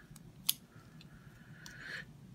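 Small scissors on a compact multi-tool being handled, giving a sharp metallic snip-click near the middle and a few faint clicks, close and quiet, with no talking.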